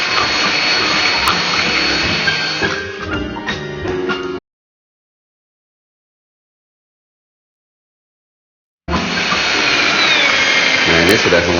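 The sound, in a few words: electric mixer beating egg batter for marble cake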